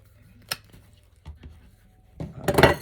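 A craft stick being cut for an Easter bunny decoration gives a few sharp snips and clicks, then a louder crunching burst near the end, close and with no talk.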